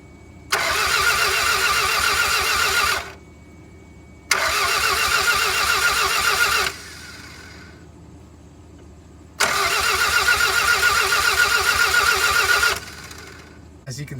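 A stock 1991 Toyota MR2 Turbo engine with bad tires cranks over in three loud, steady bursts of about two to three seconds each, separated by quieter gaps, heard up close with no voices over it.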